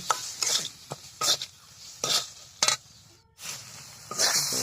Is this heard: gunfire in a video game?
no